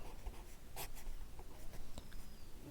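Pen writing on paper during a class 12 maths lesson, faint close scratching strokes and taps in an uneven rhythm, with no voice over it.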